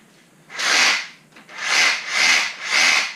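SDS drill set to hammer action, held against a radiator to agitate and loosen sludge inside: four loud, close rasping bursts of about half a second each, separated by brief pauses, with no talking.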